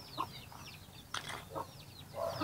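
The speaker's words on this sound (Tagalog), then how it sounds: "Kaming manok." Several chickens clucking and squawking nearby at a home in the Philippine countryside, overlapping calls in a busy, steady chorus with some wing-flapping against a noisy outdoor background.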